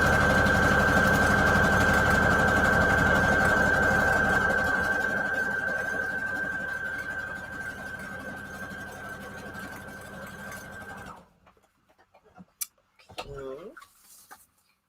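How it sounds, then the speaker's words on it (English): Sewing machine running steadily while zigzag stitching down the seams of scrap fabric, a loud continuous mechanical whir with a high steady tone that stops around eleven seconds, followed by quiet handling noises and brief talk. "I'm just going to do a zigzag stitch down each of the seams."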